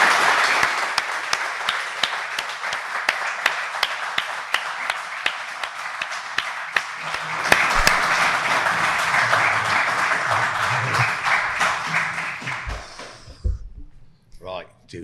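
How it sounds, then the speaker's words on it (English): A live audience applauds and claps steadily for about twelve seconds, welcoming Jason Plato, a BTCC touring car racing legend, to a talk show. Voices cheer within the applause before it fades out. "Round of applause, please, for Jason Plato."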